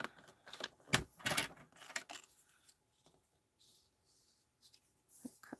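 Sharp crisp clicks and snips from a card-making project as card stock is trimmed, a burst of several close cuts followed by quieter handling and a couple of final clicks.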